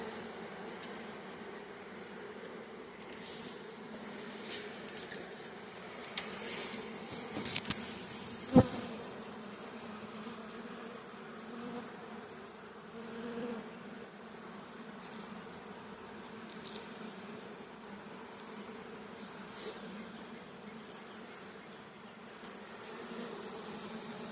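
Honeybees at an opened hive make a steady, fairly quiet buzzing drone throughout, with a few brief knocks and clatters of handling near the start.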